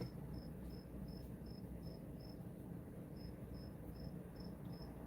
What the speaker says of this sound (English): Freaking cricket is loud